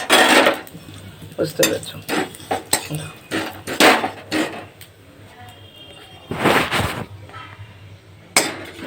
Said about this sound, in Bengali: এবার হাতা দিয়ে আমি এটা নেড়ে দেবো